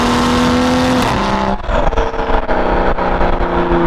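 A car fitted with an AWE non-resonated performance mid pipe exhaust roars nearby, a loud sustained engine note that drops off after a second into a rougher, burbling exhaust with crackles.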